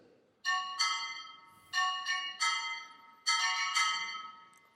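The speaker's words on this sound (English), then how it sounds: "She can even have them played on the brake drum of an automobile." Struck automobile brake drum used as orchestral percussion at a youth symphony concert, ringing metallic strikes in irregular clusters, each bright clang decaying slowly, clear and alone.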